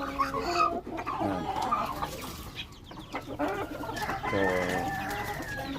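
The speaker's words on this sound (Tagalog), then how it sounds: "So ito si Karina, ating pure J45 na hen. Magaling pong maglimlim." A pure J45 hen clucking nearby, a run of repeated throaty clucks and murmurs with a few louder calls, close and continuous with no talk over it.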